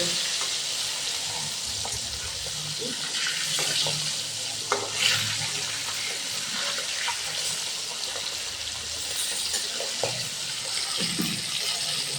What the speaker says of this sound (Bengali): ভালো করে মাছটা ভেজে দিয়েছি